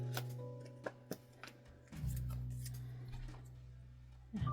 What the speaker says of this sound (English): I'm just going to snip a little bit of the edge here.